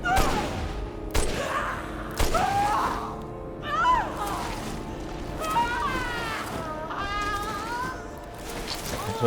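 A revolver fires in the video game Resident Evil 8: a few sharp, loud shots spaced seconds apart, mixed with wavering, wailing cries and voices.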